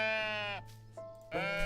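A sheep in the cozy building game Tiny Glade gives two clear, wavering bleats separated by a brief pause, close and loud with no talk over them.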